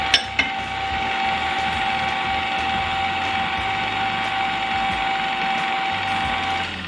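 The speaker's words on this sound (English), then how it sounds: "And I'm gonna stop the mixer there." Electric stand mixer beating pound cake batter with eggs, a steady loud mechanical whir with a constant high hum, running without pause after a couple of clicks at the start.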